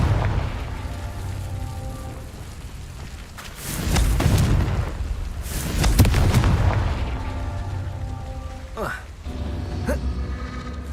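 Confringo spell blasts in Hogwarts Legacy: two heavy booming explosions with rumbling tails, loud and close, surrounded by continuous game ambience.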